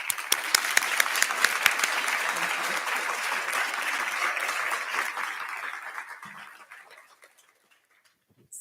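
A lecture hall audience applauds to welcome a nursing lecturer. The dense, steady clapping holds for several seconds, then thins and fades to silence.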